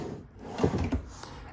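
A full extension drawer in a 2026 Keystone Sprinter 3900DBL RV slides open or closed, a brief muffled rolling rumble with a soft knock, heard close up.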